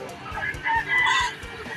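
Bantam chickens and roosters cluck and crow at an evening roadside poultry market, short faint calls over a low background hum.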